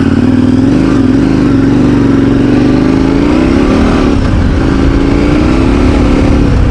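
KTM 1090 Adventure R motorcycle under way, its engine droning loud and steady with rising and falling pitch as the throttle shifts, wind rush filling the background throughout.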